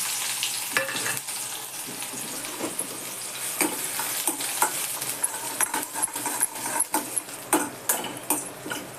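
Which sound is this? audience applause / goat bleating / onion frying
onion frying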